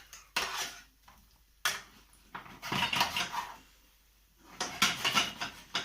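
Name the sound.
turning potatoes in hot oil and butter with fish slice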